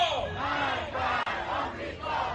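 A large crowd of Iranians gathered in the streets of Tehran chants and shouts together in loud, rising and falling waves of massed voices, with one brief break midway.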